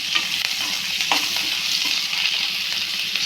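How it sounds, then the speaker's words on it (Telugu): Chopped onions and two green chillies fry in oil with cumin, mustard seeds and curry leaves, a steady close sizzle broken by a few scraping stirs of the spatula, with no voices. "ముందుగా కట్ చేసి పెట్టుకున్న ఆనియన్స్ రెండు పచ్చిమిర్చి కూడా వేసి బాగా ఫ్రై చేస్తాను"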